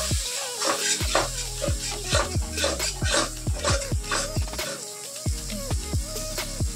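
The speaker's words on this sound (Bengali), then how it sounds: "লঙ্কা পাউডার 1 চামচ দিয়ে আমি এবার মশলাটা আবার ভালো করে ভেজে নেব।" A spice mix with cumin and chili powder fries in a hot pan with loud, continuous sizzling. A spoon scrapes and knocks against the metal in a quick, uneven rhythm throughout.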